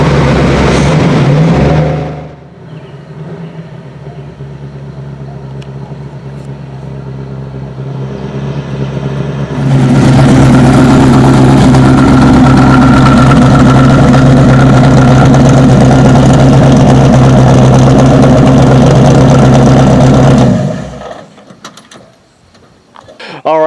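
A 1968 Ford Mustang GT Fastback with a 302 engine idles loudly up close, a deep steady rumble that drops lower for several seconds, then swells back to a fuller, rougher idle before cutting off near the end.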